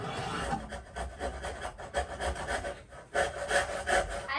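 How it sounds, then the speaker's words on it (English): An awl is pressed and twisted into a wooden wheel to make a starter dent for drilling, in a kids' carpentry project, giving close, repeated scraping and rubbing strokes in an irregular rhythm. "use an awl to make a starter dent"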